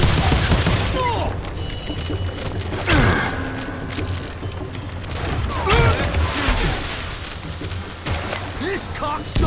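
Gunfire in the Western shooter video game Call of Juarez: Gunslinger: repeated gunshots and volleys over loud, dense game audio, with spoken voices throughout.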